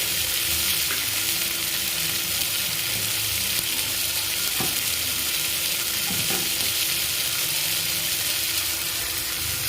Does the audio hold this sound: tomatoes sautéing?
yes